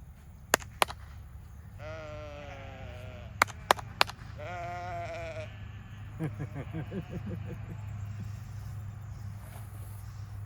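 Farm sheep bleat in several close, wavering calls over a low steady rumble, with a few sharp knocks and clatters and a softer voice-like murmur toward the end.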